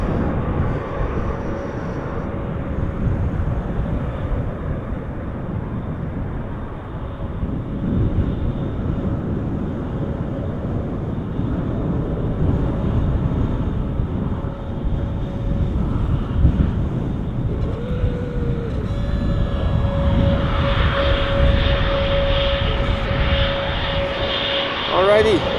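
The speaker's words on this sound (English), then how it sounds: "Embraer 175 going to Stavanger flight" An Embraer 175 jet departs Amsterdam Schiphol airport with a sustained, distant engine roar and rumble that swells toward the end, mixed with wind noise and a voice talking over it.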